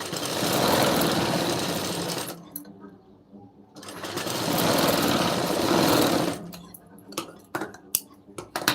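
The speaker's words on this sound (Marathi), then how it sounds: "आता याच्यावरतून आपण अर्धा इंचाने टीप मारून घेऊ" A sewing machine stitches a half-inch seam along a blouse lining in two loud, close bursts of steady whirring about two seconds each, separated by a quiet pause. Short clicks and handling knocks follow the second run.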